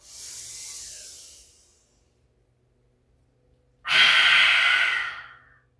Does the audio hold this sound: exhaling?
yes